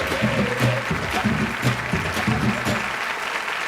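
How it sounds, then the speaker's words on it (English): Audience applause at a comedy awards show, steady clapping from a large crowd that fades slightly toward the end, with a voice speaking over it. "Can I have some more tepid applause"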